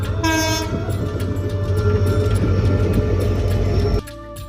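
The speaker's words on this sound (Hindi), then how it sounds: "Tulsipur railway station" A train sounds at Tulsipur railway station in Balrampur district, Uttar Pradesh, opening with a short horn blast. A loud, steady rolling rumble follows and then cuts off sharply near the end.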